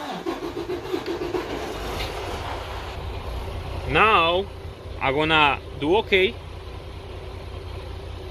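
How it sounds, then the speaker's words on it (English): A Freightliner Cascadia truck diesel engine idles steadily under a man's speech, with a few short rising whistling tones cutting in partway through. "So if we start the engine"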